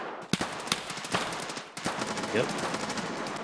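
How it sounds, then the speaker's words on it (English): Rapid bursts of automatic gunfire in Escape from Tarkov, a PvE raid, crack out close and sharp between gaps, then continue as denser, more distant firing; a voice speaks briefly. "That is so much gunfire after you died."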